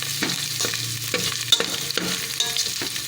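Green chilies, garlic and ginger fry in a pan for Indian moong dal khichdi, with steady sizzling and a few stirring scrapes, close and moderately loud, with no talking.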